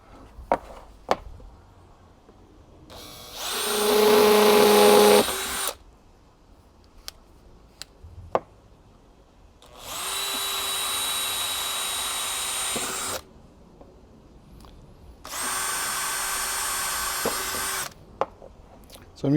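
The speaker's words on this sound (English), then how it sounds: "I'm just going to take a 2 or 3 millimeter metal drill bit and just drill a series of holes through the guttering just for drainage" Plastic guttering being drilled with a 3 or 4 mm metal bit, three separate close whirring bursts of a cordless drill, each lasting a few seconds, with quiet gaps and small clicks between.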